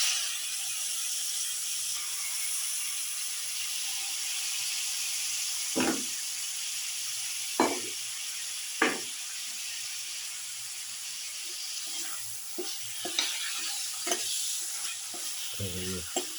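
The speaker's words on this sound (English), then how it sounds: "Put in the mutton pieces." Mutton pieces sizzle in a hot pan for a lamb casserole, a continuous frying hiss broken by several sharp scraping clatters as they are stirred, close and without talk.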